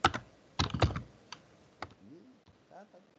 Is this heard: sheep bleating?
no